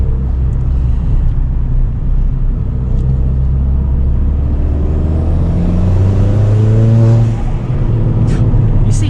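A Ford Fiesta ST200 with a Quaife mechanical differential accelerates hard on a public road, its engine note climbing steadily through the gear over a loud, continuous rumble of road and tyre noise.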